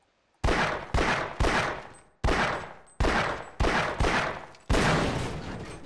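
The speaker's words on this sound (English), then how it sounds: "I'm gonna shoot it with a pistol." Seven pistol shots ring out in the Half-Life video game, sharp separate bangs at uneven intervals, each followed by a short decaying echo, fairly loud and close with no voices.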